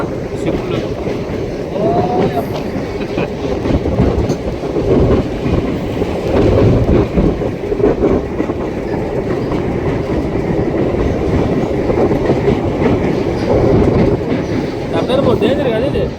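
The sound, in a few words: train running on a new bridge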